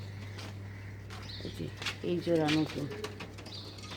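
Pigeons in a loft coo in soft, throaty bursts near the middle of the clip over a steady low hum. Someone talks nearby throughout.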